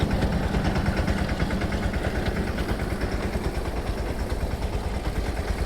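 A tractor engine drives an automatic spray pump in a coconut orchard, a continuous, even mechanical drone with a throbbing rhythm, close and steady throughout with no talk.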